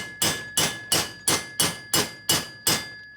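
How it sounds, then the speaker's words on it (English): Eight sharp metallic ball peen hammer strikes in a steady rhythm on a Harley Twin Cam cylinder head, each ringing briefly before the next, close and loud with no talking. "Just use a standard ball peen hammer."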